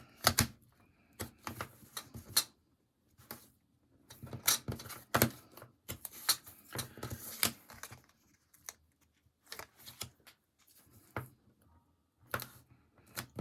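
Tape being pulled and pressed onto a cover gives off a run of sharp, crackly clicks and rips in uneven bursts, close up, with short gaps of quiet between.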